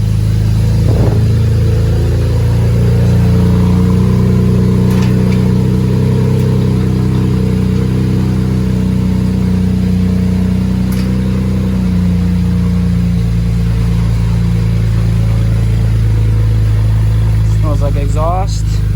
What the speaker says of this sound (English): First start, new turbos.